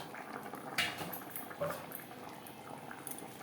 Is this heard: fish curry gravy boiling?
yes